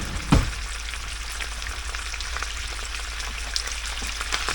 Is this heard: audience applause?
no